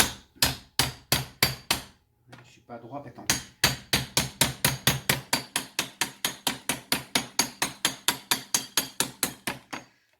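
Sharp, evenly spaced hammer taps on a knife blade cutting a block of handmade soap, close and loud, with a brief pause and a short spoken remark before the rapid striking resumes.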